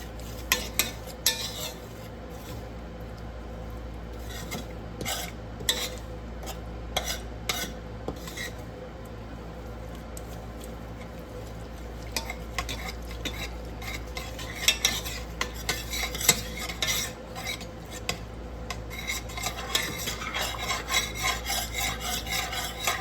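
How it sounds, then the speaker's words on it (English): Sugar being stirred into oil in a pot on the stove, a steady scraping and rubbing of a utensil against the pot with scattered louder clinks and taps, close up and continuous, with no talk. "the sugar with the oil and I'm mixing it well."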